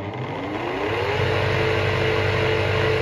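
An electric motor running only on its run capacitors spins up with a rising tone, then settles into a loud, steady hum nearby.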